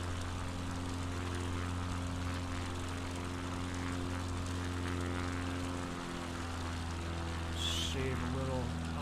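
Steady droning hum of a propeller bush plane engine in Microsoft Flight Simulator 2020, continuous and even, with a short electronic chirp near the end.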